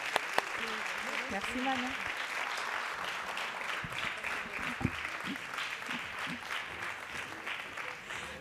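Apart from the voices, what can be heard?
audience applause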